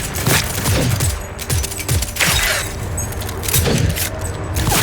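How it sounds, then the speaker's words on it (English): Rapid bursts of gunfire crack and echo in a Cyberpunk 2077 firefight, dense overlapping shots over about five seconds with loud, sustained intensity. "Exchanging fire! Reloading!"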